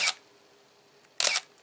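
Two crisp shutter clicks from a camera set to 1/500th of a second, each a short bright snap, the second slightly longer with a double action, separated by about a second of quiet.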